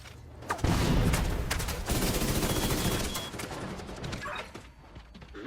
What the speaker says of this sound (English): I'm taking way too much fire!